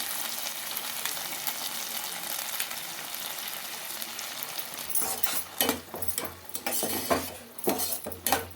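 Chilli chicken is stirred Chinese style in a pan with green chilli sauce and soy sauce: a steady sizzle, then loud, irregular clatters and scrapes of a utensil against the pan, with no talking.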